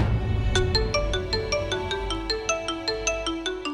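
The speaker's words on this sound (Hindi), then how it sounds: "इतनी रात को इसका क्यों फोन आ रहा है?" A phone ringtone rings late at night, a bright, repeating electronic melody of quick, evenly spaced notes playing on its own.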